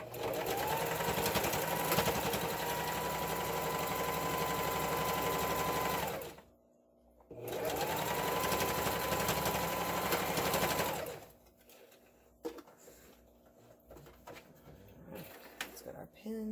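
A sewing machine backstitching seams on a fabric drawstring bag runs in two sustained bursts of whirring stitches, about six and four seconds long, split by a short pause and followed by quiet handling noises.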